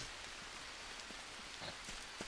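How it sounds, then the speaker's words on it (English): Steady rain falls in a video game, a soft even hiss of drops on surfaces with a few faint taps, fairly quiet and with no talking. "wake up and it's fucking raining."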